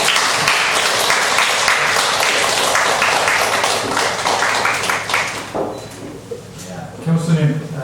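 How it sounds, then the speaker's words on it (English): A large audience applauds a guest speaker at a lecture, dense sustained clapping filling the room for several seconds before thinning out into scattered claps and voices. "So why don't you give a big round of applause to Dr. Peter Roger."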